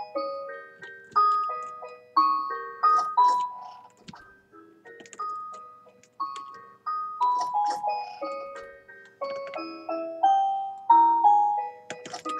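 Tinkling music box melody in The Witch's House video game, a delicate plucked tune with clear bell-like notes in a steady rhythm, played alone and fairly quiet.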